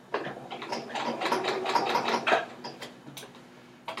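A sewing machine stitching the crotch seam of a garment runs in a close, rapid mechanical clatter of needle and gears, its ticking steady for a few seconds before stopping.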